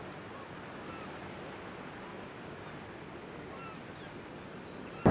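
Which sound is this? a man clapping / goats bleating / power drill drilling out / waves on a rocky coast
waves on a rocky coast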